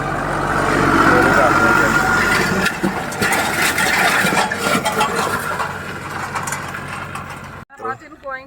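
A tractor engine runs steadily at 1800 rpm, pulling an 18-tine harrow in four-wheel drive and second gear in a field performance test: a continuous loud, rough drone with clattering mechanical noise, and a brief voice near the end.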